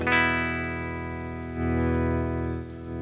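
A Telecaster electric guitar played through a Meridian Class 30 amp simulation rings out as sustained distorted chords, a sharp pick attack and then a thick, droning sustain with a restrike partway through.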